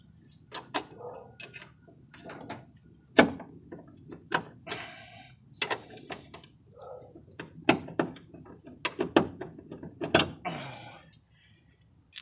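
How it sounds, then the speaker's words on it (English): A bolt is worked loose and pulled from a rear camber kit on a Honda Civic, giving a run of sharp metallic clicks, creaks and ratcheting knocks at close range, irregular and separated by brief pauses. "Take the bolt out,"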